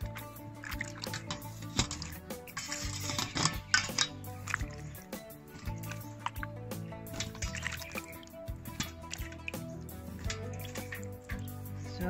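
Water drained off grated bananas in outdoor native cooking, heard as faint, intermittent squishing, dripping and splashing close by, with no talk.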